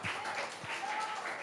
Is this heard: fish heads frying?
no